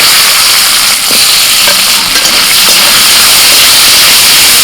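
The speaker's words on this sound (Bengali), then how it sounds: "রসুনটা একটু ভেজে দিয়ে দিচ্ছি পেঁয়াজ কুচি" Loud, dense sizzling of garlic and onion frying in hot oil, a constant crackling hiss with occasional soft stirring scrapes.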